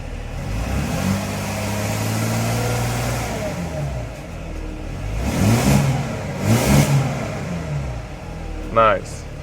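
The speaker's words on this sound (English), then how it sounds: "Let's apply some throttle a little bit." A Dodge Mercedes Sprinter van engine runs after a module replacement, idling with a low drone, then blipped with the throttle twice in quick rising revs, followed by a short sharp sound at the end.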